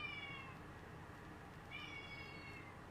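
A house cat meows twice, a short cry followed after a pause by a longer, drawn-out one, close by and moderately loud over a steady background hiss, with no talking.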